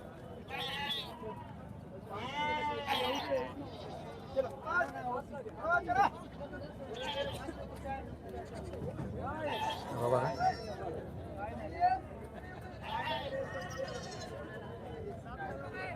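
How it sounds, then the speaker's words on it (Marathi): Goats bleat repeatedly, several animals overlapping amid a busy crowd at the Gangakhed goat market, with people chattering and calling out nearby throughout. "अशा पद्धतीमध्ये शेळी बाजार भरलेला आहे"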